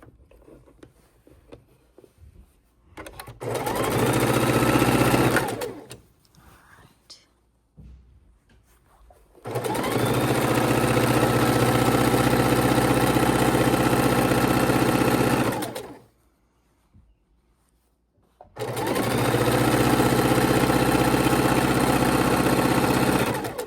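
A sewing machine runs in three long bursts of steady, even stitching, each several seconds long, separated by quiet pauses.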